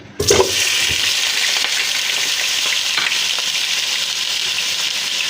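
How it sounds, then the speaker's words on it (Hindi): Cut potatoes dropped into hot oil burst into a loud, steady sizzle that starts abruptly and holds at full strength throughout, with no talking. "तो उसके अंदर गर्म तेल में हम ये आलू डालेंगे।"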